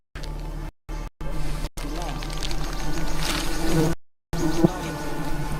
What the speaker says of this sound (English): The bees react to the disturbance, filling the air.